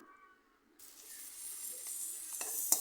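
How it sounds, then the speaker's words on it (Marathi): Garlic, chili, cumin and curry leaves with a little turmeric sizzle steadily in a pan on a wood-fired stove, a soft hiss building after a quiet start, with a few faint clinks of stirring. "लसूण मिरची जिरं कढीपत्ता हे छानसं आपलं आता परतून झालेलं आहे"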